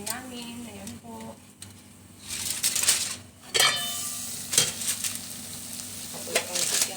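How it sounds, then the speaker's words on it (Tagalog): Corned beef cooking in a pan, with sizzling, stirring scrapes and occasional clinks of utensil against pan, close by and moderately loud, with some talking in the background. "nagluluto po ako ng corned beef"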